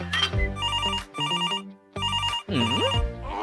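A cellphone rings with a bright, repeating electronic melody in several quick bursts separated by short pauses, loud and close.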